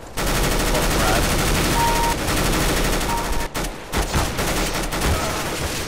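Dense gunfire in Counter-Strike: Global Offensive, loud and continuous with rapid bursts and overlapping shots throughout, breaking up briefly near the middle, with some talk mixed in.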